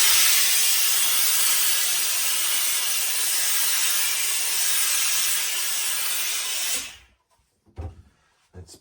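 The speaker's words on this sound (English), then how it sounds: "Put some steam on it." A steamer blasts a steady, loud hiss onto a Lock & Co trilby hat for about seven seconds, then cuts off abruptly, leaving a few faint handling knocks.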